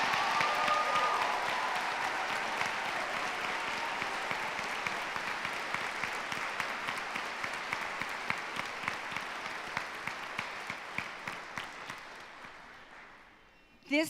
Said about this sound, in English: please join me in one more round of applause for this amazing December 2021 class